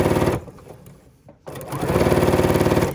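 A sewing machine runs fast, stitching a quilt fabric strip in two loud, steady bursts with a brief quieter pause between them, the rapid needle rhythm close and clear.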